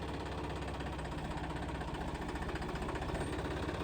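A 4x4 tractor engine, with a leaking gear seal, runs at a steady idle close by: a continuous low, throbbing mechanical rumble with no voices over it.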